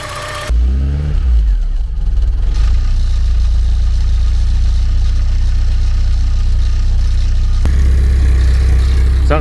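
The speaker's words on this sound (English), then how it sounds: "Oh, it's running rough." A Porsche 944 engine runs rough, its loud, uneven low idle and revs carrying on steadily close by with a brief surge near the end, with only faint talk.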